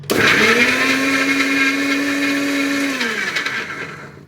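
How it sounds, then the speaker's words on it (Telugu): A mixer grinder (mixie) with its lid closed runs at a loud, steady whirring pitch, then winds down and fades out near the end, close and alone. "ఇక్కడైతే మిక్సీ లిడ్ క్లోజ్ చేసుకున్నాను, స్విచ్ ఆన్ చేశాను అనమాట"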